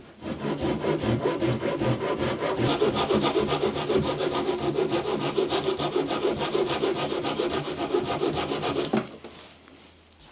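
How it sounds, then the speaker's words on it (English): A hand saw cuts wood for a garden obelisk, a steady rhythmic rasping of quick back-and-forth strokes, close and loud, stopping abruptly near the end. "Now I can take the saw and trim along my line"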